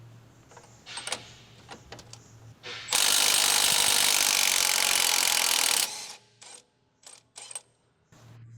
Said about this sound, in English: Using the 21mm wrench, large 24mm long socket, and large electric impact wrench, remove the front air suspension lower retaining bolt.